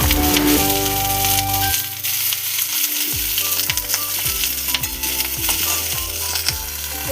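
Kenduli frying in hot oil, a dense sizzling crackle that runs throughout under tonal background music, with a few sharp clattering knocks.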